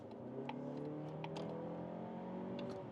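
A Mazda3 with an updated engine accelerates on the German Autobahn, its engine note rising steadily from inside the cabin as a smooth, moderately loud drone with a few faint clicks, and no talking.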